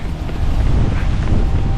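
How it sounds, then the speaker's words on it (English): Strong wind during an outdoor half marathon run roars and buffets the microphone with a continuous low rumble, loud and close, with no one talking. "Whoa, it's windy."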